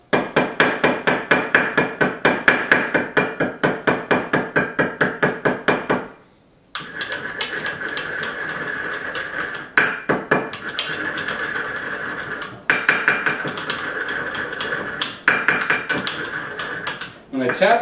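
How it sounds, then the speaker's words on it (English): A ball peen hammer pounds crushed turquoise chunks on metal in a rapid, loud, close run of sharp ringing strikes, then switches to steadier, denser metallic tapping and clinking, with brief pauses and occasional talk. "So I'll start whapping away at it with the ball peen just directly and getting it kind of broken down."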